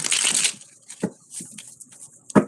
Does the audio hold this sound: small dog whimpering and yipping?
no